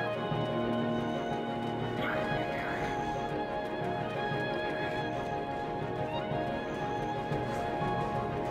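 A horse whinnies and its hooves clip-clop steadily in the video game Black Desert, a continuous loud scene layered with game ambience and music.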